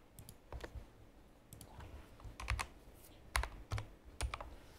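Computer keyboard typing while coding a React sub-router: irregular bursts of close, crisp key clicks with short pauses between them, no voice.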